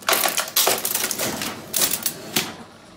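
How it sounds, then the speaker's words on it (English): A 1926 Burroughs electromechanical calculator has its motor started, producing loud, close mechanical clattering with repeated heavy clunks and rattling strokes in uneven bursts. The clatter has a typewriter-like quality and fades toward the end. "and then I start the motor"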